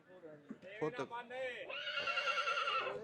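At a donkey and horse market in Tandlianwala, a horse lets out a loud, long, wavering whinny up close, following a few brief voices at the start.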